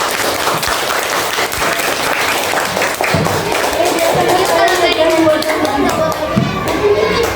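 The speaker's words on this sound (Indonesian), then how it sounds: "tepuk tangan buat semuanya" A classroom of students applauding together, loud, close clapping mixed with cheering and chatter, continuing steadily throughout.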